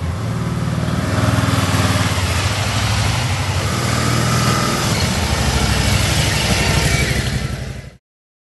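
A 2011 Can-Am Spyder RT Limited three-wheeler idles steadily nearby, a low even engine rumble that holds for about eight seconds before cutting off abruptly.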